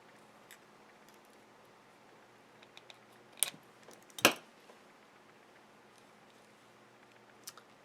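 Pliers snip beading wire after a crimp on a necklace clasp, giving two faint, sharp clicks a moment apart in an otherwise quiet room.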